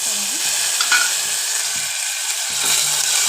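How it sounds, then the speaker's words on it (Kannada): Chopped onions fry in the hot oil of a spice tempering, giving a loud, even sizzle close by, broken by intermittent scraping and stirring knocks against the pan. "ಈಗ ಈರುಳ್ಳಿ ಹಾಕ್ಕೊಳ್ಳೋಣ."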